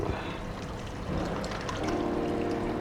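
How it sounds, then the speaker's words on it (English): Hot water being sieved and poured into a red stew sounds like a steady, loud pouring rush and trickle that runs the whole time, close by and without talk. "now we are going to sieve the water"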